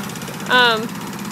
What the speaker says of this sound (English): I hope you can hear me because Arlen's mowing